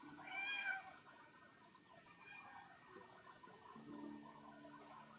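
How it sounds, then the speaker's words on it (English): A cat meows once, close and brief, early on, then low indoor background noise carries on with faint thumps and a short hum. "Also, sorry for the cat."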